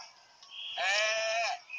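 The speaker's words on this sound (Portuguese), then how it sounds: "É mesmo uma cabra, meu." Bleating that sounds like a goat, a loud wavering animal cry lasting just under a second and standing out clearly from the quieter background.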